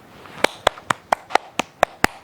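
A round of hand claps, about nine sharp claps at a steady, even pace, fairly close and clear with no talking.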